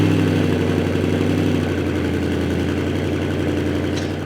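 Engine of a Porsche Panamera GTS, a steady, loud low rumble with a strong pulsing drone that holds at an even level and eases slightly near the end.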